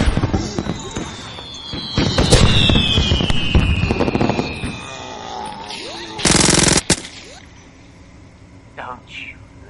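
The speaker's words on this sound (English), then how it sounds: "Fireworks." Rapid crackling bursts and popping explosions of a fireworks power-up in the video game Audio Defense: Zombie Arena rattle loudly, with whistling streaks, a harsh noisy blast midway and a voice talking over parts.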